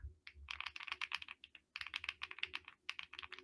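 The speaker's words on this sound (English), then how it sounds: "I'd love to hear your voice, but I think I want to hear your keyboard." Brisk keystrokes on a brand-new keyboard with a creamy sound: rapid close clacks in two bursts separated by a short pause, with no talking.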